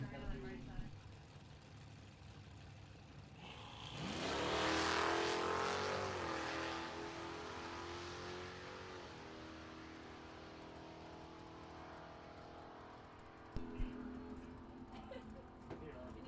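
A 1978 Nova and a 1967 Mustang launching in a drag race at a strip, engines roaring up to a loud peak and fading, with an announcer talking over the noise and a sharp bang near the end.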